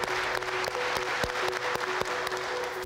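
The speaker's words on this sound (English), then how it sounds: "We'll give you a nice clap, and once you hear the rhythm going, you show it to us." A group claps together in a steady, evenly spaced rhythm, with sharp, distinct claps over a busy crowd background.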